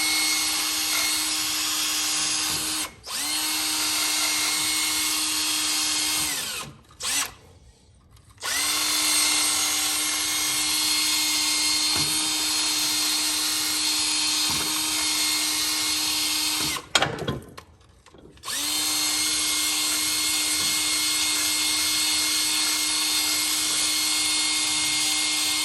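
A power drill bores out broken bolts on the bucket subframe of a 1991 Kubota B7100 HST tractor, whining loudly and steadily in long runs broken by two short pauses, close up with no talk.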